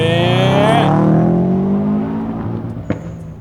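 Taxi car in the Roblox game Brookhaven accelerating hard, a loud rising engine whine with climbing harmonics that holds steady and then eases off, with a brief sharp tap near the end.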